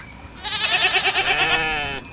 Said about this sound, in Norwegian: Svarer geitene